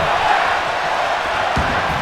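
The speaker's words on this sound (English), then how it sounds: "But the crowd's chanting one more time." A wrestling crowd at a UPW Revolution live show chants and roars in a dense, steady wall of arena noise that stays loud and unbroken throughout.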